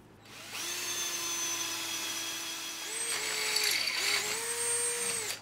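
A power drill bores a hole in metal to fit a flanged nut, a steady high whine that dips and rises as the bit bites, close and sustained for several seconds.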